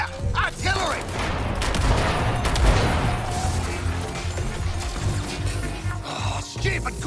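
Artillery barrage in Suicide Squad: Kill the Justice League, a dense, continuous rumble of explosions and crashing impacts. It stays loud across the whole stretch, with a low boom that surges near the middle.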